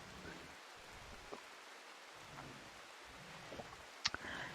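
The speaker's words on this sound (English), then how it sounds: "It is still raining." Rain in the Rimworld video game, a soft, steady patter of drops at low volume, with a few faint ticks and a sharper tap near the end.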